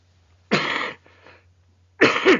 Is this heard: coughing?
yes